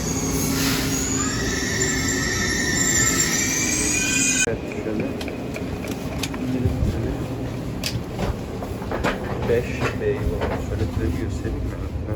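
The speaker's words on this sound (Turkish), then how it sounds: "Bizi Ankara'ya götürecek trenimiz. Geldi." A passenger train pulls into a Turkish station for the run to Ankara, its rolling, clattering rail noise and faint wheel squeal continuing steadily throughout, loud and close on the platform.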